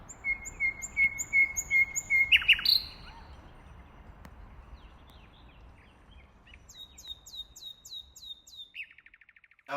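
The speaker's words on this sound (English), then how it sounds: "There's something about a nightingale song." A bird sings alone in an urban setting, with a rapid series of bright repeated whistles, a sharp burst of notes, a quiet pause and then another quick run of rising chirps, fairly near and clear.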